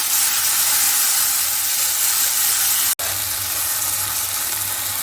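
A loud, steady sizzle of spices and tomatoes frying in a pan on high heat for beef karahi, continuous hissing with a brief dropout partway through.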